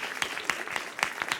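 Faint, sparse clapping for a guest home cook on a French cooking show, a handful of separate claps spaced irregularly at low level.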